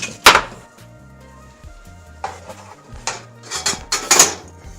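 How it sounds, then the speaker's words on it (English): Tomato sauce made from fresh tomatoes being stirred in a pot, with scattered clinks and scrapes of a utensil against the pot in a few short bursts over a low hum. "And we're going to stir it up."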